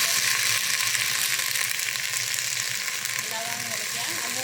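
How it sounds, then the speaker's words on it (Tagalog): Mulukhiya soup sizzles and fries steadily in a pan, a loud continuous hiss close to the microphone with no talking over it. "Ganito magluto ng mulukiya guys."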